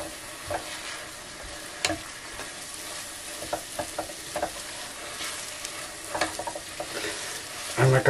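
A spoon stirs a stiff dough of flour, butter and water in a non-stick pot over low heat. Soft scraping and light sizzling come through close by in irregular bursts, with louder knocks near the end.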